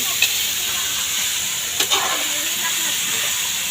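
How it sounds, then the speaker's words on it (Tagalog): Coconut milk poured into a pan of simmering bamboo shoots sets off a steady hiss and bubbling sizzle, with a couple of faint clicks of a utensil, heard close and continuous. "At tapos yan, lagay na yung gata niyan guys."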